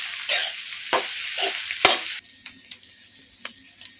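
Upma and egg are stirred in a frying pan, giving scraping swishes and a hissing sizzle in several strokes. The sound drops abruptly to quieter, lighter scrapes partway through.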